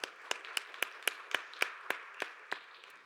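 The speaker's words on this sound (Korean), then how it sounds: "박수로 서로를 격려하겠습니다" A congregation at a Sunday young-adults church service claps in a slow, steady rhythm of about a dozen evenly spaced claps, crisp and moderately close, with no talking.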